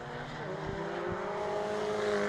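Race cars circulating at Cadwell Park, a steady engine roar with a rising tone as one car accelerates, loud and continuous, with a commentator talking faintly underneath.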